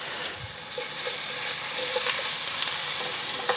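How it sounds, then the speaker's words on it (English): Garlic sizzles in a hot pan, a steady close hiss with faint crackles and no talking. "we're also gonna put in our garlic. We're gonna cook that for about 30 seconds"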